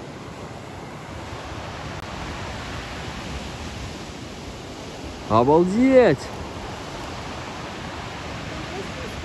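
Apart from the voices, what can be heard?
waterfall flowing down near Sosnovka beach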